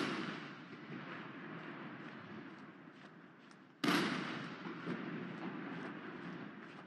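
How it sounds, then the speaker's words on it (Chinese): Artillery gun salute at a National Day military parade, 56 guns firing 70 rounds; distant rumbling booms under a wash of crowd and ambient noise, with one sharper, louder blast partway through that slowly decays. "隆隆炮声"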